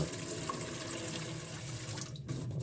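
Water streams steadily from a tap into a pot, a constant close splashing rush with a slight change in tone near the end.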